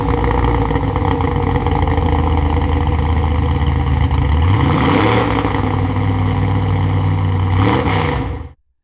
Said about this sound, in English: The motor was officially alive again.